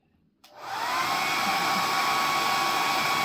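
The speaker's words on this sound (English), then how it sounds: "And my handy dandy blow dryer again." A handheld blow dryer switches on after a brief quiet moment to dry a decoupaged oyster shell, then holds a loud, steady, close-up whoosh with a thin motor whine. No one speaks.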